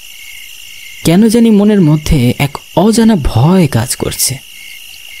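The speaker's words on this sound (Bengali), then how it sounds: "নিশি কালো অন্ধকারের মাঝে শুধু ঝিঝি পোকার ডাক কানে ভেসে আসছে।" A continuous high cricket trill from a cartoon night scene runs as a thin steady layer beneath a dramatic narrating voice throughout.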